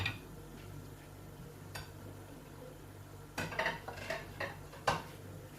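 A metal lid clinks onto a fish karahi pan on a low flame, a cluster of close, light clattering knocks and scrapes after a quiet stretch, with a faint isolated tick earlier.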